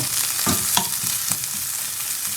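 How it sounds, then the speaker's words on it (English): Courgettes sizzle steadily in hot olive oil, a continuous crackling fry with a few soft stirring clicks and no voices. "So there the courgettes, happily frying in a bit more olive oil"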